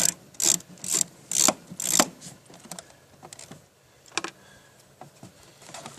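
Bolts on the relay box of a 2004 Toyota Prius are undone with a ratchet: several quick bursts of close, crisp pawl clicking in the first two seconds, then sparser clicks and light metal handling.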